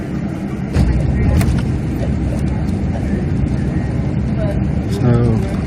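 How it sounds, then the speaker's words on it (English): A Flixbus coach works through downtown Portland streets from inside, a steady loud rumble of engine and road noise with occasional rattles and thumps, while a voice talks over it. "It takes a little bit of effort to navigate the bus through the city streets."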